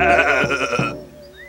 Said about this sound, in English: Oh, lovely sheep.